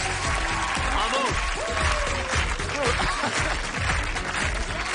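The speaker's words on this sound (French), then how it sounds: "on peut les applaudir" A television studio audience applauds and cheers steadily through the whole stretch, loud and dense and close, with a few voices calling out over the clapping.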